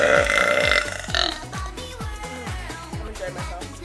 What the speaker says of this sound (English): These are going to be really, really loud because I'm burping right out of the sound mechanism.